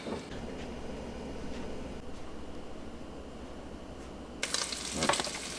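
Bacon frying in a pan with a steady, faint crackling sizzle throughout and a louder burst of spitting near the end.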